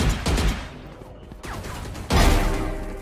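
Rapid gunfire in Valorant during a tense round, bursts of shots cracking close and loud, then a heavier volley near the end, with no voices over it.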